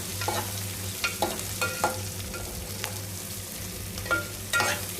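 Bitter gourd pieces frying in a pan: a steady close sizzle with periodic scraping and clinking as the pieces are stirred.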